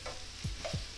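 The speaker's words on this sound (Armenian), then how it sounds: "տապակելու եմ միսը, մինչեւ" Minced meat for moussaka fries in a pan and is pressed and stirred with a wooden spoon. A steady close sizzle runs under a few soft scraping strokes, with no voice.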